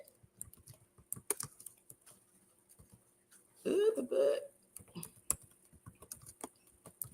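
Rapid keyboard clicks tap away close by in irregular bursts, interrupted midway by a short voiced sound.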